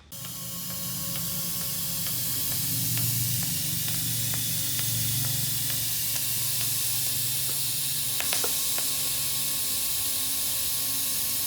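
Welding on an old beater car, a steady hissing crackle with scattered sharp clicks and pops that runs close and loud for the whole stretch, with no talking.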